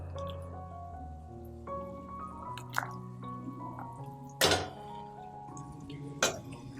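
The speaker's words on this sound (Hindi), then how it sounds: "अब हम इसमें अपना मैरिनेट किया हुआ चिकन डाल देंगे।" Marinated chicken added to a pan of tomato and onion masala, giving wet squelching and dripping sounds with a few sharper clinks of a utensil against the pan, close up with no talking.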